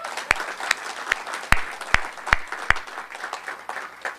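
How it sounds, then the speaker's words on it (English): A school-year launch crowd at a college preparatory high school applauds for Absalom Bowling. A few sharp, loud claps land at a steady beat over lighter scattered clapping nearby. "And let's give a great round of applause to Absalom Bowling."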